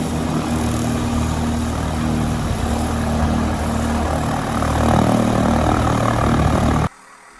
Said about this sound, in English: Here's a video of him taxiing out.